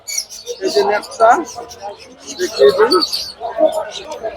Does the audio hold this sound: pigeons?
yes